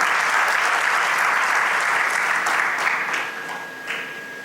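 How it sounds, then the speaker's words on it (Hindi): Loud, dense applause from a crowd fills the room at a corporate awards night in Surat, then thins and fades toward the end with a few scattered claps. "जोरदार तालियां हो जाए इनके लिए।"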